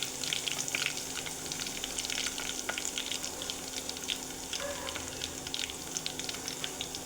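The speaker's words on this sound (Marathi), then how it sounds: "खूप छान तेल गरम झालेलं आहे. लगेच आपण पहिल्यांदा जिरे टाकून घेऊ" Cumin seeds sizzling in hot oil in a pan, a steady soft crackle and hiss with scattered sharp pops, fairly close and quiet, without talk.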